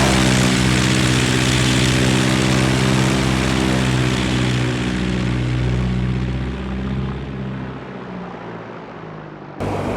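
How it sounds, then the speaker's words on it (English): A Just Flight DR4 single-propeller aircraft in X-Plane 11 drones loudly with a steady engine buzz, then gradually fades as it flies off into the distance. "Listen to the sound of the aircraft as it flies off into the distance."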